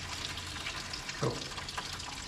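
Coolant drains from an LX Holden Torana engine into a bucket as the water pump comes off, making a brief, steady close splash and trickle of liquid.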